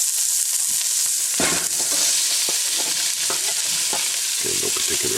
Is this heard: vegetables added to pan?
yes